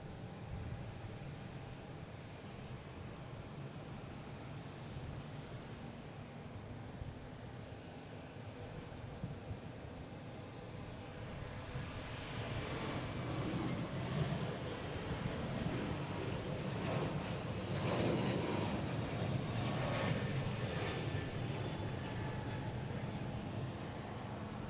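An airplane departing Boston Logan on a flight to Salt Lake City gives off a steady, broad jet roar that swells louder through the second half and stays heavy to the end.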